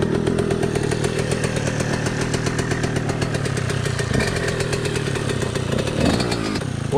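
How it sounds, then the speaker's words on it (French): A 2006 KTM 125 SX two-stroke motocross engine, freshly rebuilt at the top end, runs at a steady fast idle, a loud buzzing rattle held close and continuous without anyone speaking. "Donc là on va le laisser tourner au ralenti le cross."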